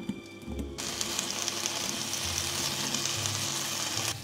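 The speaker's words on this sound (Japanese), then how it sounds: "弱めの中火にしてから水気を切ったレンコンを入れ炒めます。" Drained lotus root slices hit hot sesame oil in a frying pan over medium-low heat, setting off a sudden, steady, crackling sizzle that continues evenly and close by.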